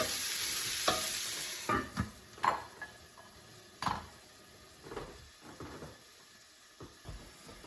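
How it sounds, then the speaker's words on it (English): Vegetables for Mongolian beef sizzle and hiss as they steam and sauté in a pan, with several distinct stirring scrapes and clatters against the pan standing out over the frying. "I think my vegetables have steamed and sauteed enough here"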